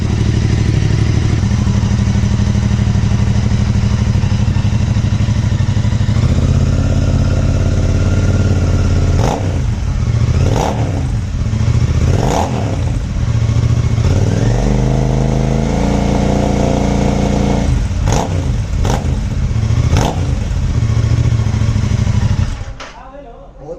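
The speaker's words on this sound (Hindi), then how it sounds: "अच्छा एग्जॉस्ट नोट आ रहा है।" A loud Royal Enfield Interceptor 650 with an aftermarket exhaust idles with a deep burble, then revs sharply several times, each blip rising and falling before the engine cuts off at the end.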